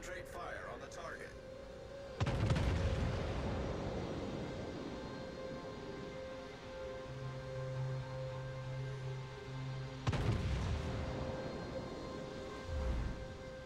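Naval artillery in World of Warships, heavy booming salvos with long rolling decays, two main blasts several seconds apart over a faint engine hum, with speech in places.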